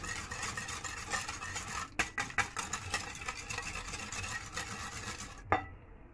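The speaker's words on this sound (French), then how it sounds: "Ensuite, je fouette un peu." Yogurt cake batter being whisked by hand in a bowl: a steady close scraping swish with a burst of quick rhythmic taps in the middle, ending in one sharp clink before falling quiet, with no talking.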